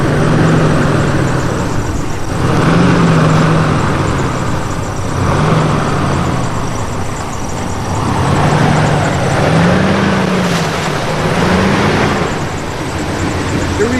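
Four-wheel drive vehicle crawling along a muddy, rutted road in the Chama Canyon Wilderness: a loud, close engine drone rising and falling in slow surges over constant rumbling.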